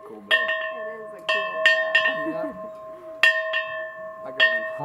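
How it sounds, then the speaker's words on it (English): A dinner bell rings in several separate clear metallic strikes, each tone ringing and fading, while people talk between and over the strokes. "Yeah, it's got a sweet sound. That's a cool bell."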